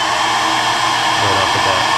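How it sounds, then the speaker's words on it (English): A heat gun blows steadily and loudly, heat-setting fresh paint on a pumpkinseed-pattern crankbait, with a constant broadband roar filling the whole clip. "I'm going to heat set this, and then I'll probably do just another coat."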